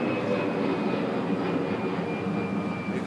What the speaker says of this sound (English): Old jet airliner right there